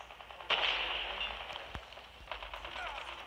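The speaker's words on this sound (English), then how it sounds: "So I pull out my pistol and I go popping." Pistol shots ring out in Call of Duty Mobile, a sharp pop followed by a few lighter cracks over faint game background noise.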